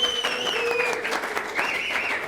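Applause from a crowd fills the whole moment, steady and fairly loud, with a thin high whistling tone gliding over the clapping.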